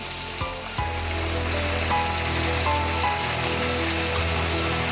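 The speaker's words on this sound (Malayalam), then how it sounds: "നമ്മൾ ചിക്കനൊക്കെ ഏതാണ്ട് ഗ്രില്ല് ചെയ്യുന്ന പോലെയാണ് ഇപ്പോൾ ഞാൻ ചെയ്തുകൊണ്ടിരിക്കുന്നത്" Chicken shallow-frying in oil in a kadai gives a steady, close, rain-like sizzle, with a few small clinks early on.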